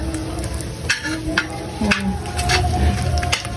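Dried fish (tuyo) sizzles and spatters in a pan set outdoors. The steady frying hiss is broken by the scrape and clink of stirring.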